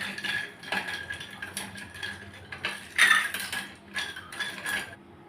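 Metal spoon stirring half a spoonful of blue colouring into a glass for a Blue Lagoon mocktail, with quick clinking taps and scrapes against the sides, close and clear, no talk.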